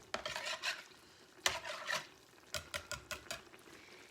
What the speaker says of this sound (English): Mix this so there's no chunks.